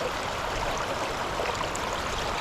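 A fast, high river used for steelhead fishing rushes in a dense, steady roar of flowing water, even and unbroken throughout, with no voices.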